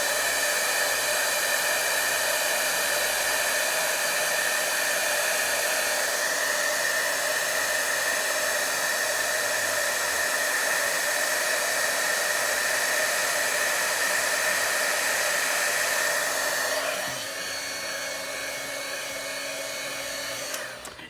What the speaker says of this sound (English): you do need a heat gun or an embossing gun to do this